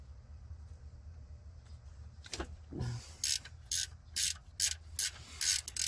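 Ratchet wrench clicking in short repeated bursts while idler pulleys come off the engine of a 2011 Chrysler 300 Hemi during a water-pump change, close and crisp after a few metallic clanks and scrapes.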